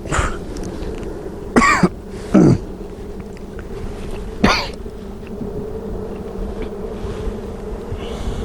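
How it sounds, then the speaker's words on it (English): Three short bursts of coughing, close and fairly loud, at uneven intervals over a steady low hum of bees buzzing around a hive. "Sorry if I'm coughing"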